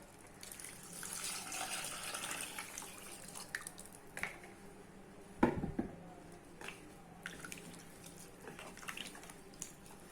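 Water is poured onto rice in a pressure cooker, a soft, fairly faint splashing pour early on that gives way to light drips and small clinks in a quiet kitchen, with no talking.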